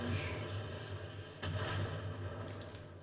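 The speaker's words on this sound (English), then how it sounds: "we'll try to take out these turrets at long range" Weapons fire against turrets in the BattleTech video game: a couple of muffled booming shots with a sharp crack partway through, over a low rumbling game soundscape.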